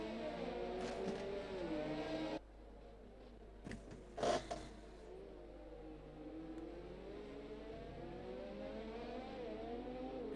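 Race cars in an Xbox racing game warm their tyres on the formation lap at Monza: a steady, fairly faint engine whine with wavering revs, briefly dropping away near the middle before resuming.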